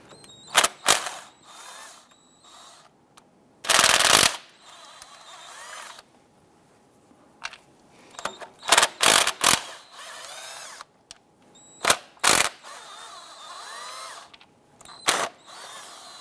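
A hand ratchet loosens the 10mm valve cover bolts on a 2008-2013 Nissan Rogue, giving close, sharp bursts of rapid clicking separated by pauses, with metallic handling sounds between.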